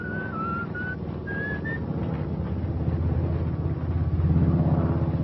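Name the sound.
person whistling a tune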